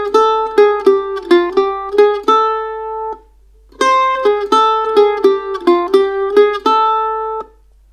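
A bluegrass mandolin lick moving into F, heard as two bright plucked phrases separated by a short pause, each ending on a ringing held note, close and clear with no talking.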